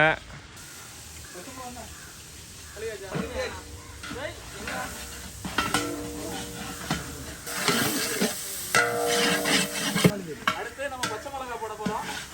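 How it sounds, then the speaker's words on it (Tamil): Whole spices, cinnamon and cardamom, dropped into hot oil in a pot for village-style fish biryani, with sizzling, stirring clatter and hissing as people talk over the cooking. "கருவாப்பட்டை ஏலக்காய் போடுறாங்க"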